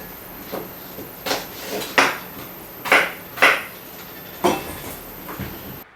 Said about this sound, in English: I have some potatoes here, and we want to be cubing these